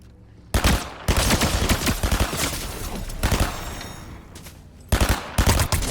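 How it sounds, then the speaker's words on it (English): Gunfire in the Fortnite video game, including a gold shotgun, comes as loud close bursts and rapid shots in several clusters separated by brief lulls. "He had a gold shotgun."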